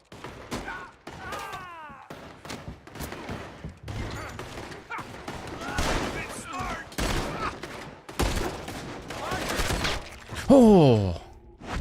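Gunfire in Red Dead Redemption 2, scattered shots and crashes over a busy mix of game sounds and voices, with a loud burst near the end.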